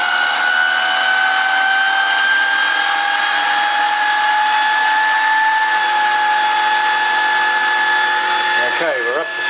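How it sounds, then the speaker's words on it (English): An electric motor salvaged from an exercise machine spins up slowly on a generator test rig, a loud steady whine that rises gradually in pitch across the clip and cuts off abruptly at the end. "Now this does wind up slowly because it's out of an exercise machine, so it doesn't throw you off as soon as you hit the button."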